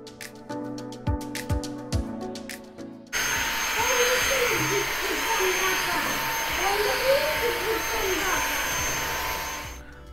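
A Dibea Yasomi G22 cordless vacuum cleaner fitted with a mop attachment switches on after some earlier clatter and runs as a steady, close whirring hum, with someone talking over it.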